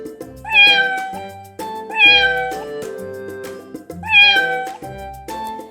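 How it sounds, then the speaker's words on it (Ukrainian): A cat meows loudly three times, each drawn-out call evenly spaced about two seconds apart, close and clear with a soft tonal background. "Може нявкати, муркотіти."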